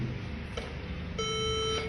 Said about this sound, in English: Now there is a beeping sound.